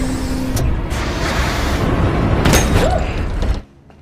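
An alien head bursts apart in a scene from the science-fiction film Prometheus, heard as a dense, rumbling blast with sharp cracks that sustains for several seconds and then cuts off abruptly.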